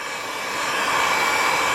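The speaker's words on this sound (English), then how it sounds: "So we'll get the heat gun turned on, get it started heating up." A heat gun blows hot air onto headlight tint film on a Dodge Challenger, a loud, steady, breathy whoosh close up that builds slightly and holds without pause.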